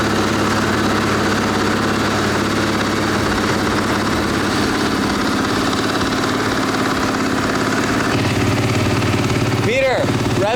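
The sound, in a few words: KTM 450 SMR motorcycle engine running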